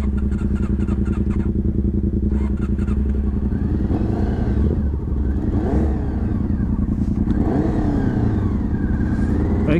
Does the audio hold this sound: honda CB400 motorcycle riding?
yes